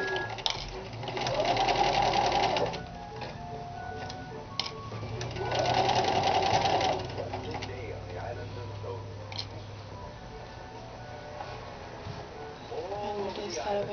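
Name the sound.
sewing machine stitching a Kapp cap headcovering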